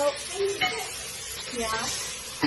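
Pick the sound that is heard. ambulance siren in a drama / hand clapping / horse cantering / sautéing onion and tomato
sautéing onion and tomato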